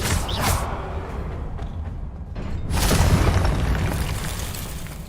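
The Expelliarmus disarming spell goes off in the Hogwarts Legacy video game as a loud burst with a whooshing, booming swell that rises midway and slowly fades.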